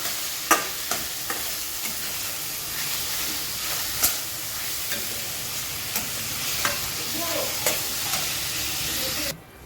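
Onion with a spoonful of salt sizzles steadily in a pan for Mumbai-style masala pav, with periodic scraping knocks of a spoon stirring through the frying, close and fairly quiet.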